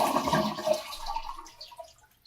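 A toilet flushes during a bidet seat installation, with the water supply shut off, so the tank drains in a loud rushing surge that fades and thins over about two seconds, ending in a few trickles.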